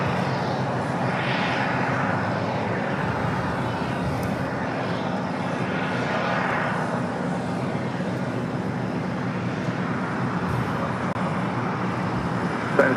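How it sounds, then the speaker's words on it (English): An ANA airliner taxis at Los Angeles International Airport, a broad steady jet-engine roar that swells gently and holds throughout, with faint distant traffic-like rumble beneath. "ANA continues its taxi up there to the north."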